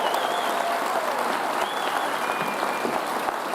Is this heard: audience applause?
yes